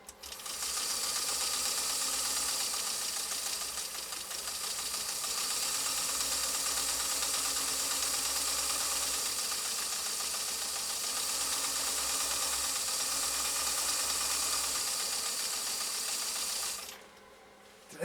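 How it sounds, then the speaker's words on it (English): A Pfaff 360 sewing machine runs a decorative stitch in a dense, continuous mechanical clatter of gears and ratcheting. The sound stays loud and even for most of the run, then drops off abruptly near the end. "Let's go ahead and do this final decorative sew off on Emily's PFAFF 360"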